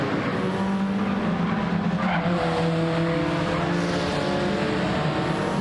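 Tires squeal under a steady, droning race-car engine in a GT4 Cup racing video game, with the screech blending continuously into the engine noise throughout.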